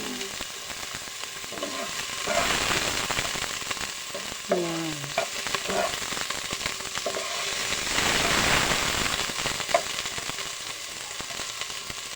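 Onion, garlic and ginger frying in a pan give a steady, loud sizzle throughout, with scattered stirring clatters and brief voice-like sounds mixed in.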